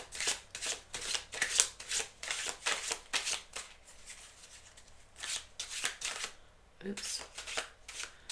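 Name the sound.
cutting and shuffling tarot cards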